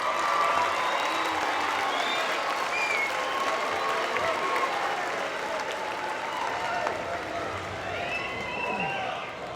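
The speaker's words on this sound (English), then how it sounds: "Graduates, please turn to the audience and thank your parents and those supporting you with a round of applause." At a high school graduation, graduates and the audience applaud parents and supporters in a large hall. Sustained, loud crowd clapping runs throughout, with scattered cheers, whistles and voices mixed in.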